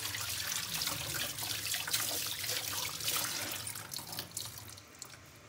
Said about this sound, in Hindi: इसको अच्छी तरह साफ़ करना है अच्छी ज़्यादा पानी से।